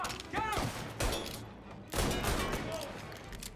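Gunfire in Mafia Definitive Edition, a few loud heavy blasts in an indoor firefight, with ringing, clattering tails and voices calling out between shots.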